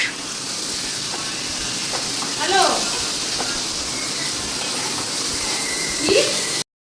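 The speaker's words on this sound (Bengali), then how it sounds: "এখানে ভাত ভাজা হচ্ছে" Leftover cooked rice frying in a pan, a steady soft hiss and sizzle throughout with faint clinks of a utensil, while a person talks over it.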